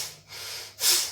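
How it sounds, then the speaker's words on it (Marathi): Quick, forceful breaths during a pranayama yoga exercise: a couple of sharp nasal exhales and inhales in a short rhythmic burst, close and fairly loud, with no talking. "आता आपल्याला फास्ट ब्रीदिंग करायचं आहे."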